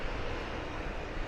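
A UPS cargo plane being pushed back at DFW Airport: a steady, dense jet engine roar that stays level and constant throughout, heard from a distance with no talking.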